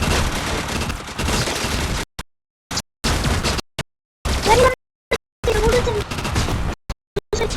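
Gunfire in a shooter video game, including sniper shots, comes as loud, sharp bursts and clusters of shots broken by brief silent gaps, with fast repeated cracks toward the end.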